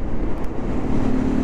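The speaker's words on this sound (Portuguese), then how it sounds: "e o vento tá terrível" Strong gusting wind blasts straight into the microphone at a roadside border crossing out of Argentina, a loud, continuous low roar and buffeting rumble with no voices.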